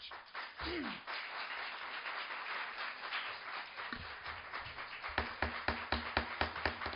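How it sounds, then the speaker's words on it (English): Audience applause at a town selectmen meeting in Wareham, a sustained wash of clapping from a seated crowd filling the room, growing sharper and more distinct toward the end. "There will be no applause, and if you keep it up, we will have you removed"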